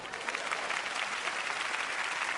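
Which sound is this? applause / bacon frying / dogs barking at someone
applause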